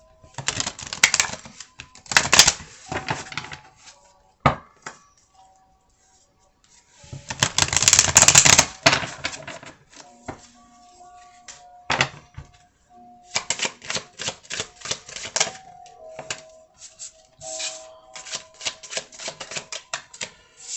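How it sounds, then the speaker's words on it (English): Tarot cards are shuffled in several bursts of crisp rapid riffling and flicking, separated by quieter pauses with light tapping. "I'm going to shuffle it a couple more times here."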